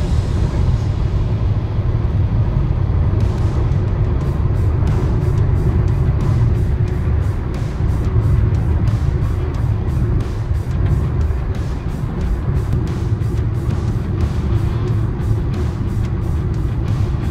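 A car cruises at high speed on a highway in Bengal, giving a loud, steady wind and road roar with rhythmic thumps from the tires hitting road joints, no talk.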